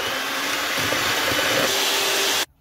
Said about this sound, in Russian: Все это хорошо взбиваю миксером